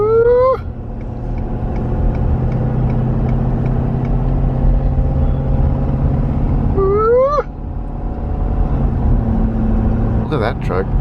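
A car cruising along an interstate highway gives a steady, continuous road and engine rumble throughout, with brief whistling chirps over it near the start and middle.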